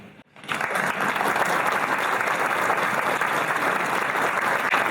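After a brief hush, a large model UN conference audience bursts into loud, sustained applause for the Singapore delegates, dense clapping that holds strong to the end.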